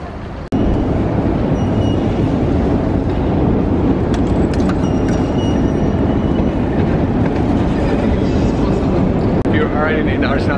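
A Kyiv metro train runs through Arsenalna, the world's deepest metro station, with a loud, continuous rumbling roar and rattle close by and muffled voices buried beneath it.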